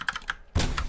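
Computer keyboard keys are pressed during a game session: a few quick close taps, then a louder, longer clattering press, with no voices present.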